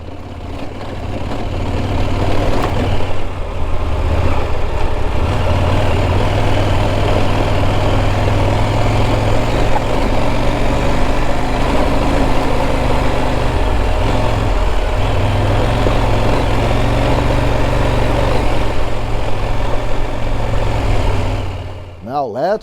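Engine of a 2019 KTM 790 Adventure R motorcycle pulling up a steep climb, a loud, steady low drone without hesitation, recorded close, with a rider's voice over it.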